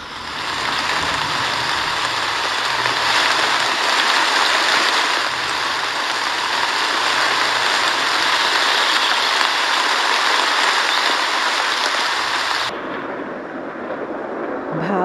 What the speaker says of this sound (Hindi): It's been half hour that it's raining heavily.